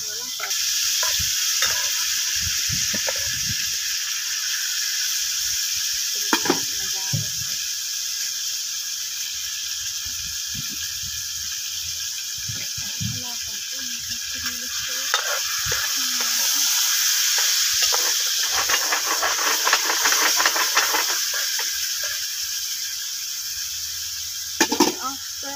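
Chicken frying in a pan sizzles and hisses steadily, with a louder burst of steam and crackling when a splash of water goes in; occasional stirring and a voice speak over it throughout.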